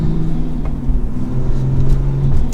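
A manual Toyota Supra engine fitted with a Pedal Commander throttle controller revs in a steady, loud low rumble, swelling slightly midway with a faint rise near the end, with no voices.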